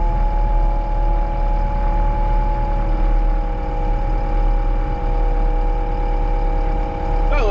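A Kenworth truck engine running at a coal waste loading site, a loud continuous low diesel drone with steady humming tones and no clear changes in speed.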